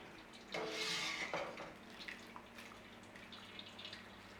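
Water and whey from homemade paneer poured through a cloth-lined strainer, a brief burst of splashing liquid followed by faint, scattered drips and trickles in a quiet kitchen.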